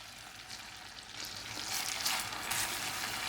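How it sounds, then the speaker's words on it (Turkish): Semolina fries in melted butter in a pan under constant stirring, a continuous bright hiss that swells slightly louder in the second half, close and without speech. "Sürekli karıştırıyorum."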